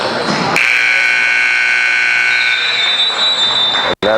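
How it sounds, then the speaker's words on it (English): A long, loud electronic buzzer sounds to end the first half of a basketball game, holding steady for several seconds over crowd and gym noise before cutting off abruptly. "And that's the first half buzzer."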